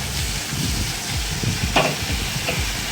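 Chopped bitter gourd fries in a pan with a steady low sizzle and a few scraping spatula stirs, close-up and moderately loud, with no talk.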